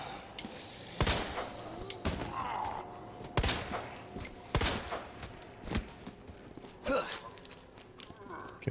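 Gunshots from a Resident Evil 2 (2019) game, sharp shots scattered every second or so across the stretch, moderately loud, with in-game ambience and some voice sounds between them.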